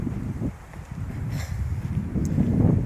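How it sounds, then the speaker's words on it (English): Steady wind at a beach blows across the microphone in gusty, rumbling waves, with low buffeting throughout and a brief faint rustle partway through. "It's very windy out here at the beach."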